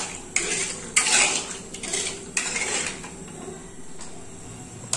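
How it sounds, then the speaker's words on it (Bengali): A spoon stirs sugar into milk in a metal pot for nikuti payesh, giving several distinct clinks and scrapes against the pot, moderately close and alone with no talk. "এবার চিনিটাকে ভালো করে দুধের সঙ্গে মিশিয়ে দিচ্ছি।"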